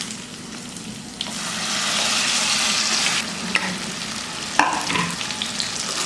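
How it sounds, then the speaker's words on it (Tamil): Ground sorrel (pulicha keerai) leaf paste frying in hot oil with garlic and chilies for a pickle, a loud, steady broadband sizzle with occasional stirring scrapes and sharper crackles, no voices. "இதையெல்லாம் சேர்த்ததுக்கப்புறமா நம்ம அரைச்சி வச்சுருக்கிற இந்த புளிச்சக்கீரை விழுதை நம்ம சேர்த்துடலாம்."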